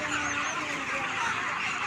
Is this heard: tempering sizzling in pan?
no